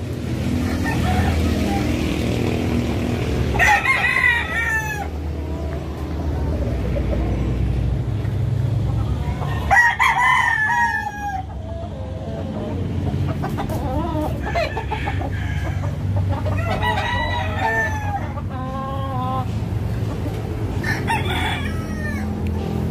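Gamefowl roosters in a breeding area crow repeatedly, several long cock-a-doodle-doo calls overlapping from different birds near and far, with clucking and a steady low rumble of vehicle noise underneath.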